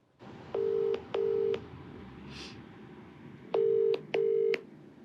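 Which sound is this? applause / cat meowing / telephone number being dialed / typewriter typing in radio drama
telephone number being dialed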